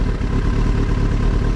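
A motorcycle pulls away as the clutch is released, its engine running loud and close with a steady, rough mechanical clatter and no change in pitch.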